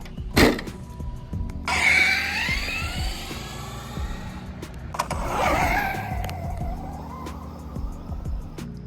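Traxxas Raptor R RC truck tearing off-road through tall grass, its electric motor whining up in two sharp accelerating bursts with rising and falling pitch, a thump near the start, close and fairly loud.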